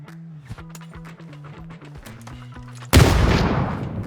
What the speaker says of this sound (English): Now they're shooting.